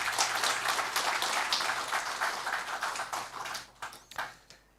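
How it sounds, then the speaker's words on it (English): An audience at an international youth seminar's keynote session gives a round of applause, a full, even clatter of many hands that thins out toward the end into a few scattered last claps. "Can we have a round of applause for her"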